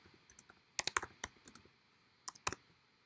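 Quiet clicks of a computer keyboard as a URL is typed, with a few scattered light taps, then two quick bursts of sharper keystrokes, all close and unaccompanied by talk.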